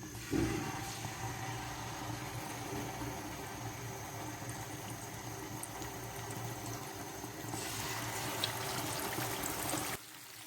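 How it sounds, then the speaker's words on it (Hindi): Fish pieces for a spicy, crispy masala fish fry cook in hot oil in a pan, giving a steady, even hiss and sizzle that runs close and unbroken until it cuts off at the very end. "ऑयल हमारा गर्म हो चुका है, अब हम इसमें फ़िश डालेंगे।"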